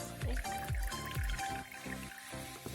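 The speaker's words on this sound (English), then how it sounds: "pour the water in there for me so I can" Water poured into a small plastic toy shower from an LOL Surprise Fuzzy Pets set, with several short splashing pours in quick succession followed by a softer trickle, close and fairly quiet.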